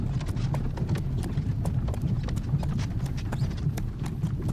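Steady clip-clop of horse and carriage hooves in the fantasy strategy game Third Age Total War, a continuous rapid trot at close range with no talk over it.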